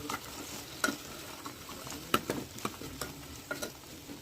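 Okra and salt being stirred in a pan, with a spatula scraping and clicking in irregular strokes over a soft, steady sizzle; no talking.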